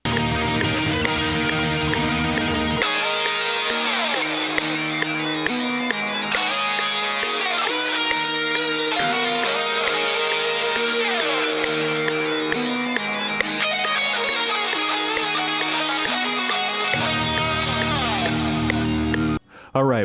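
Distorted electric guitar lead riff for a track, played loud and continuous with sustained melodic lines over a full backing arrangement, the low end dropping out briefly early on and returning near the close.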